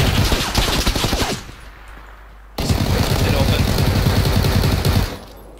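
Rapid automatic gunfire from an online shooter game, with sustained bursts of submachine-gun fire aimed at the player, a brief lull, then another long loud volley, while voices talk over the shooting.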